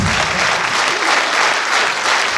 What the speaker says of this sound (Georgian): ეს დამსახურებული აპლოდისმენტები თქვენია